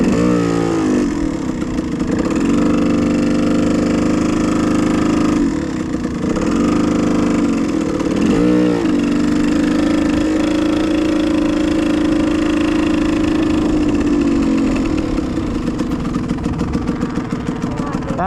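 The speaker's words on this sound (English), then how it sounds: "You rode a motorcycle." A motorcycle is ridden by a learner rider, its engine chugging and idling at a steady mid-pitched drone, with revs rising and falling several times close by as voices talk over it.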